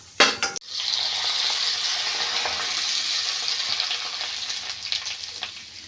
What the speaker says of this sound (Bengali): এই দেখুন কি দারুণ ফুটছে দেখুন। এইভাবে তেল ঝরিয়ে ঝরিয়ে